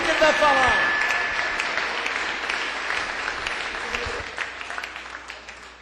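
A congregation claps at an evening church service, loud dense clapping at first with a brief tone near the start, then slowly thinning and fading.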